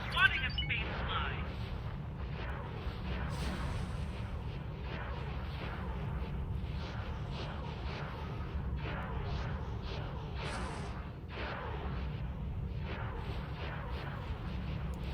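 Starship guns in an X4 Star Wars space battle fire a steady stream of booming, thudding shots over a constant low engine rumble, while a voice talks over the fighting.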